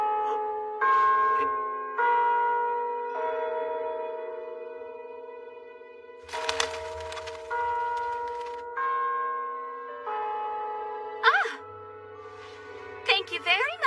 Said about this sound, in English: Someone needs to ring a bell.